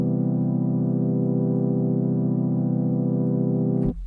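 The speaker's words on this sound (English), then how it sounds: "make sure I have a sawtooth wave loaded up on one oscillator" A single sustained sawtooth tone from an Xfer Serum synth with its filter tightened to 24, held loud and steady with dense buzzing harmonics for about four seconds before it cuts off, alone with no talk.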